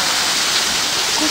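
A waterfall at a hillside shrine roars as a loud, constant broadband rush, close and unbroken throughout.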